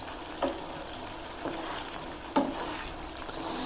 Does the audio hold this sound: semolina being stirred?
yes